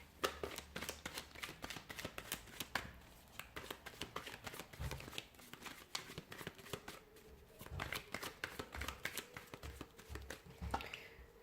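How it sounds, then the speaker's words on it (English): A deck of tarot cards being shuffled, repeated riffling bursts and soft slaps at close range with brief pauses between rounds. "So we'll give the cards a shuffle here"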